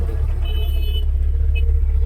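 A 2012 Tata Indica car with its engine running, a steady low rumble close by that holds even throughout, with a faint high whine briefly above it.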